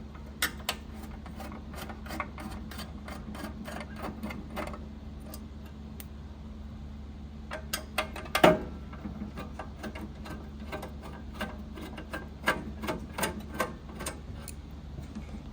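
Screws being loosened on the front cover of a FocusInc Starfire 62U R2R UV DTF printer, a steady run of small sharp ticks and clicks over a low hum, with a louder clack near the middle.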